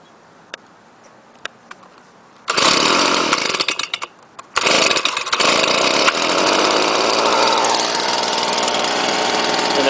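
A gas leaf blower being started cold: a few faint clicks and pumps, then the small two-stroke engine catches, sputters briefly, and roars into a loud, steady whine that runs continuously nearby.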